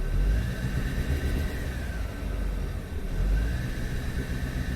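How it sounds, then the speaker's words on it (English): Engine of a 2013 Hyundai Santa Fe that is running poorly and lacks power, revved up from idle in a steady loud drone that swells and eases, heard up close with no talking. "I'm gonna rev it up."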